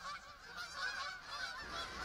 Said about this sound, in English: all the time they are flying, the geese are honking.